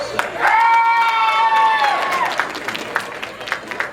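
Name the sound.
audience applause at anime game show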